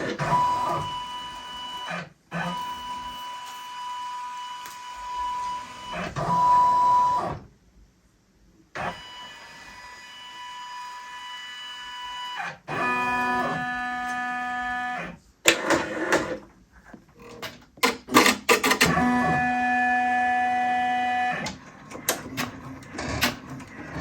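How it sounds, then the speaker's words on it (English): A computerized embroidery machine stitches a design in a large 14x14 Mighty Hoop, its motor whirring in steady tonal runs that shift pitch, stop briefly and restart with quick rapid chatters. "So it's embroidering the first half of the design."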